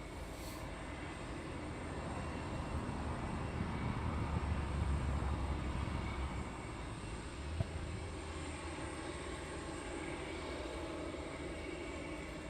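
Steady, faint jet engine rumble from a Boeing 747 preparing to push back at East Midlands Airport at night, a distant broad roar that swells slightly and holds without pause, no voices.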